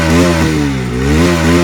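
A Bajaj DTS-i motorcycle runs after repair, its engine revving loudly and close with a strong throbbing tone that dips briefly mid-way and climbs again, with no voices.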